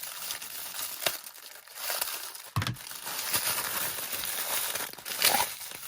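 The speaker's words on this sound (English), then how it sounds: "Going to unwrap this" Decorative mesh from Dollar Tree is unwrapped up close for an Easter craft, giving intermittent crinkling and rustling of plastic wrapping with sharper crackles in between, and nobody speaks.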